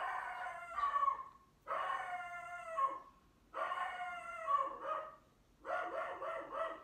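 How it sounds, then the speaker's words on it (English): Dogs howling and baying in four long, drawn-out bursts with short pauses between, fairly close and with no talking. "Sorry if you hear my dogs barking."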